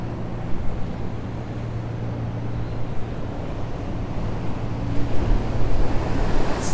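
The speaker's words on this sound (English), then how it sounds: "It's definitely very strong waves and current." Strong ocean waves and current surge against a fishing pier, a continuous rumbling wash with heavier swells building near the end, close and loud with wind noise on the microphone and no talking.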